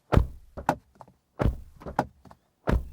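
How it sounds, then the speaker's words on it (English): Doors on a GWM Cannon Alpha PHEV ute slammed shut several times, each a solid close thud, some followed by a lighter secondary knock, near and otherwise quiet. "This is what our door slam sounds like."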